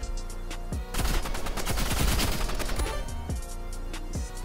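Rapid bursts of paintball gun fire in the Roblox Rivals video game, a dense volley of quick shots in the middle with single louder pops at the start and end, no talking.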